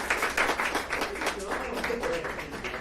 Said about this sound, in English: we can clap for them too